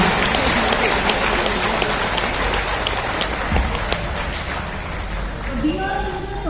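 A meeting audience claps in dense, steady applause from many hands, loud and fairly close, with someone talking over it and the clapping thinning toward the end.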